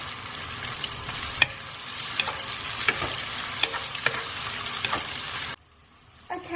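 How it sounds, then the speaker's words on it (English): Onions sautéing with a pinch of salt in a pan for a palak chicken curry, a steady close sizzle with stirring scrapes and clinks throughout, then cutting out abruptly near the end, leaving quiet with a faint clatter. "I'm going to saute these onions till they turn a nice light golden brown."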